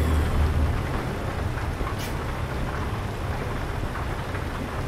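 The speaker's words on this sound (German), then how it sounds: "Ist der Regen also auch bald vorbei." Rain in the American Truck Simulator game, a steady hiss of falling drops over a low rumbling drone, moderately faint and unbroken, with one brief sharp crackle partway through.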